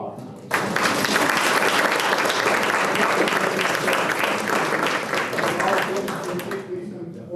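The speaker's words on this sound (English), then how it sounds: "give him one more round of applause." An audience at a school board meeting bursts into sustained applause, dense clapping from many hands that fills the room for several seconds before thinning slightly toward the end.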